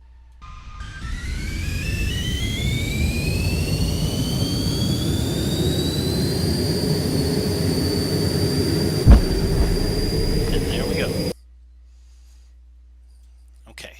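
A fighter plane in a Unity dog-fighting flight sim roars with a rising jet-engine whine, then a short sharp impact as it crashes, and the sound cuts abruptly to near silence afterward.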